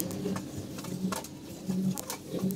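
Pigeons being fed juice in a coop on a hot day coo softly in low repeated notes, close by, with light rustling and patter between calls.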